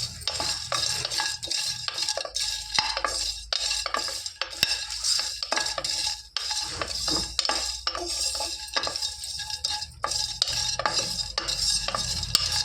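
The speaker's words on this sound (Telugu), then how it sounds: "ఈ వట్టి చేపల్ని నార్మల్గా వేయించుకుంటాను ఫ్రెండ్స్ వీటిని ఇలా వేయించాలి" Dried fish is dry-fried in a pan, with busy, rhythmic scraping and rattling as a spoon keeps stirring it against the metal over a light sizzle, close and with no voices.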